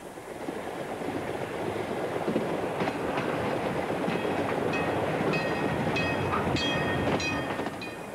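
A steam-hauled train runs along the rails in Australia, with a continuous rolling rumble and clatter building slightly, then bright squeals and metallic clanks repeating in the second half.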